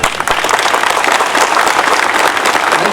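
A crowd at a public gathering in Raichur claps loudly and densely, filling the full three seconds with continuous close applause and no pauses.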